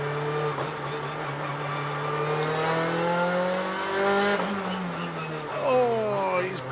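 Onboard a BTCC touring car racing at Brands Hatch, the engine drones loud and steady with rising and falling revs, and a commentator talks over it.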